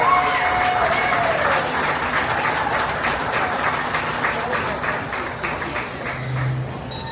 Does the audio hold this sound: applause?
yes